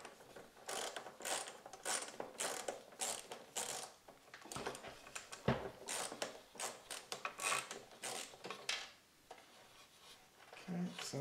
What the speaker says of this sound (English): now go ahead and unscrew this panel here